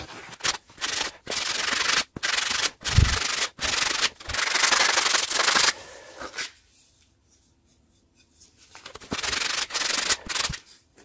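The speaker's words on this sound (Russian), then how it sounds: "Чуть-чуть тут сейчас пошкурю." Sandpaper of 240 grit rubbing over a hammer or axe handle in repeated strokes, loud bursts separated by short pauses, with a quiet gap midway before the scraping resumes.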